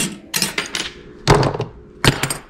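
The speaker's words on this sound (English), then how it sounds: "No problem cutting thin aluminum with the old snips" Old tin snips cutting thin aluminum sheet, giving three sharp metallic snips with clinks, each followed by a short scraping ring-out, spaced about a second apart, close and fairly loud.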